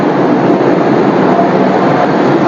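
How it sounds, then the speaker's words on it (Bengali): A Vande Bharat Express train rolls past platform 3 at Guwahati station, a loud, steady, close rumbling roar that stays constant throughout with no talking. "আপনার সামনে দিয়ে দেখিয়ে দিই ট্রেনটা"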